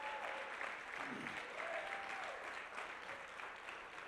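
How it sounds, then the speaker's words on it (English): Audience applause fills a convention hall at a motivational speaking event, a dense, steady clapping that carries on unbroken for the full few seconds with no pause or fade. "You ought to be applauding yourself after that."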